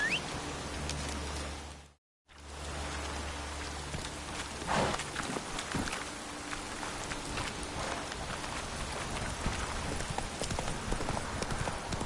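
Roach the horse from The Witcher 3 walking at a steady pace, a run of close hoof clip-clops over a low ambient hum, briefly cut by a short silence near the start.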